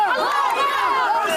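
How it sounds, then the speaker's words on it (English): A crowd on the streets of Gaza cheers after ceasefire news, a brief, loud burst of overlapping shouting voices rising and falling close by. "The cheering could be heard on the streets of Gaza following the news."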